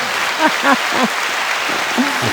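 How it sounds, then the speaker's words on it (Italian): Recorded applause plays as a steady hiss of clapping behind two people talking over it. "applausi registrati, esatto, visto che non c'è nessuno che ce li fa"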